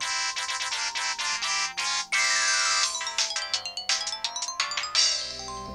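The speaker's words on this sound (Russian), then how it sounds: "Всего предустановлено 25 мелодий звонка и 10 сигналов сообщений." A preset ringtone melody from a Samsung C200 button mobile phone, a bright electronic tune of rapid repeating notes with rising and falling sweeps, playing loud and close with no voices.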